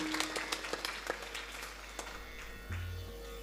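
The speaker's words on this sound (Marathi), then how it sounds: "छत्रपती शिवाजी महाराजांना जोरात टाळी वाजून कोटी कोटी" A crowd at a memorial gathering claps for Chhatrapati Shivaji Maharaj, a faint, patchy round of applause over a steady electrical hum.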